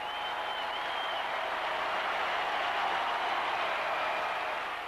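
Arena crowd at the Portsmouth field gun competition applauding and cheering, a continuous broad wash of clapping and crowd roar that holds steady throughout, heard from within the stands.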